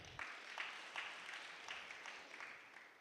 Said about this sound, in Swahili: Mama wetu makofi.